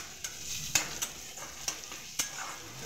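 Tomatoes being stirred in a pan to soften them, with a low sizzle and sharp scrapes of a spatula against the pan at irregular intervals, close and moderately quiet.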